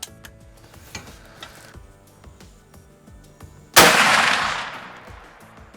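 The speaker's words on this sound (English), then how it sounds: "Now I'm gonna shoot it at 150 yards." One loud, sharp blast from a CVA Optima black powder rifle fired at 150 yards, preceded by quiet ticking and clicking, its boom decaying over about two seconds.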